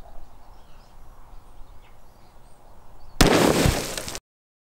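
A 6.5 Grendel rifle firing Nosler 100-grain ballistic tip rounds at water jugs outdoors from about 50 yards gives a sudden loud blast with a burst of spray. Quiet ambient noise and faint birds come before it.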